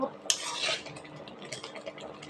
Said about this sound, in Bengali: গুড়টা আমার নাড়া দিতেই থাকতে হবে